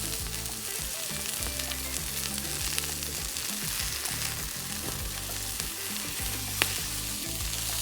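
Australian Black Angus flank steak pinwheels with melted cheese sizzle steadily on a hot grill grate as they are flipped, a dense crackling fry with a few sharp pops and scrapes, close and fairly quiet, no voices.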